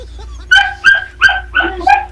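A dog barks five times in quick succession, sharp and close, with short pauses between each bark.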